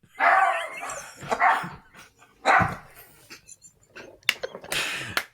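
Juniper the dog lets out several loud, close barks and yips in separate bursts, with short quiet gaps between them and a final sharper run of barking at the end.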